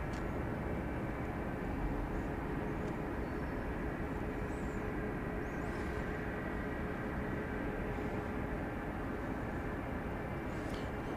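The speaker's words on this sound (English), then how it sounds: "Got the plane from Albuquerque poised for takeoff." Airplane at Dallas Love Field airport at night, heard as a constant distant engine roar and broadband rumble that holds steady throughout, with faint high tones above it.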